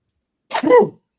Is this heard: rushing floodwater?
no